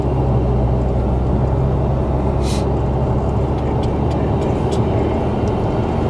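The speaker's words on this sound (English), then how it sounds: "You hear the turbo Sounds like whine?" A Fisker Karma accelerating on a test drive, heard from inside as a loud steady cabin roar of road and wind noise with a faint rising whine and a brief hiss partway through.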